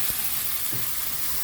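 Spice paste sizzles and fries steadily in soybean oil, a continuous close crackle with a couple of soft stirring scrapes, no voices.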